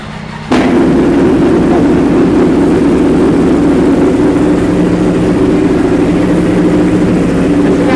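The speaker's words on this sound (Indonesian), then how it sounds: "kalau manasin R1, suaranya menggelegar sampai rumahnya Pak RT" A Yamaha R1 sport motorcycle engine bursts into a loud, steady roar after a brief quieter start, holding a deep, dense drone close by while it warms up.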